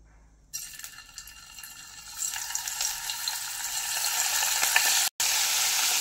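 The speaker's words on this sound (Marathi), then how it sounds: "लो फ्लेमवरतीच फ्राय करून घ्यायचं 2 ते 3 मिनिटे दोन्ही साईडून." Paneer frying on a low flame for biryani, a soft sizzle that starts abruptly, then builds into a steady, brighter hiss as it keeps cooking, close and continuous with a brief break near the end.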